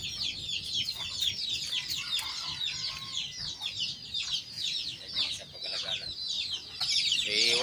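Hen and small chicks cluck and peep continuously, a dense chorus of high chirps close by with soft clucks underneath and no talk.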